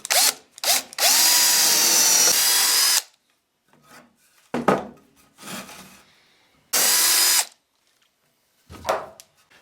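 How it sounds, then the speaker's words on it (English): A power drill with a 7/16 bit bores holes through a wooden 2x4, sounding in three loud sustained whirring bursts with quieter scraping and handling noises between them. "So I'm going to be using the 7/16 to drill all of the holes."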